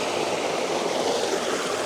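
Waterfall pouring in a steady, dense roar, loud and close, filling the whole moment without a break or any voice over it.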